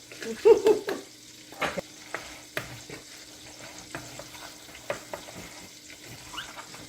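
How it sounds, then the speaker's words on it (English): Food seasoned with rosemary and oregano is stirred and turned over in a pan. A soft background sizzle sits under a series of scattered spatula scrapes and taps, close and fairly quiet, with no talk. "I just want to do a turnover and a stir and a turnover"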